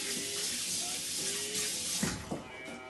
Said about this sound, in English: we're going to wash our hands because we've got orange juice and citric acid and stuff on our hands